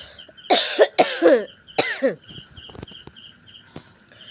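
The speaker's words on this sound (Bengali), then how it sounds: "প্রচণ্ড কাশি ঠান্ডা সব একসঙ্গে লেগেছে" A person with a heavy cold coughs outdoors under a mango tree, three harsh close coughs in quick succession, with faint birds and insects in the background.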